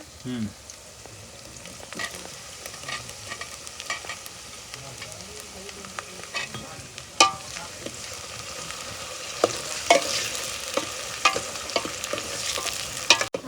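Okra curry masala with tomatoes sizzling in a pan while a spoon stirs it in steady scraping strokes, the frying hiss loud and continuous with sharper clicks and clatter of the spoon against the pan.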